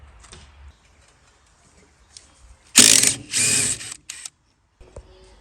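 A ratchet loosens a bolt on a Ford Mustang II steering knuckle, with close, loud bursts of rapid clicking separated by pauses and small metallic knocks.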